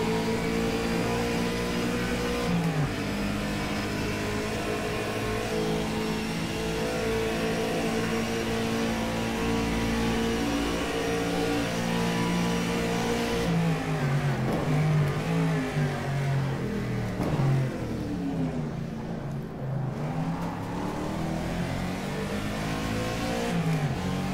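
A 1965 Howston G6 race car in rFactor 2 at Longford, a country road circuit, drones loudly and continuously, revving up and down through gear changes across the lap with no talk.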